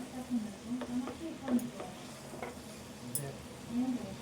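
Ivy gourd curry fries in a pan, a soft, faint sizzle under a series of light scraping and tapping stirs spread across a few seconds, recorded close by.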